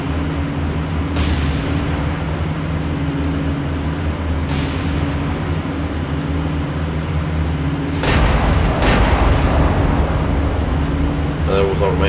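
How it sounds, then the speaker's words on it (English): Naval main guns firing in the naval combat game War on the Sea, a few heavy booms spaced seconds apart over a constant engine and ambient hum, with a louder cluster of blasts later on. "And that was our main guns."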